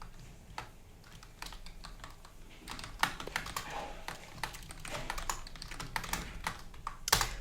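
Close computer keyboard typing in irregular bursts of sharp key clicks, sparse at first and then denser, with a few louder taps near the end.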